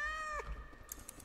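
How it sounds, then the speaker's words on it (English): A cat meows once inside a video game, a short rising-and-falling cry up close, followed by faint clicks and quiet background noise. "Oh, it's a cat."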